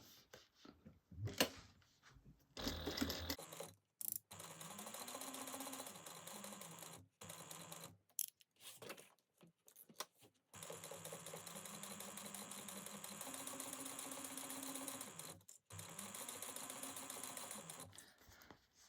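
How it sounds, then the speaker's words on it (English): A sewing machine top stitches a fabric flap, its motor whirring in steady runs of several seconds broken by short pauses, close and fairly loud with no talking. "we're going to go ahead and top stitch this"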